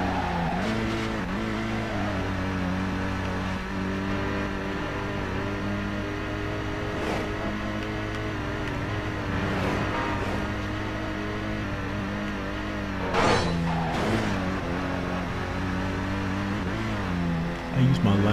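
Engine drone from a car in the street-racing game Midnight Club 3: DUB Edition holds a steady, high-pitched roar under nitrous boost, with brief bursts of noise and shifting tones over a continuous close engine.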